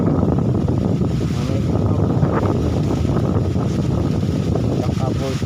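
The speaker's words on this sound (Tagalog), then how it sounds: "Malakas pa rin po ang hangin, gawa na may bagyo pa." Strong typhoon wind buffets the microphone in a constant loud roar, with a speaking voice partly audible beneath the gusts.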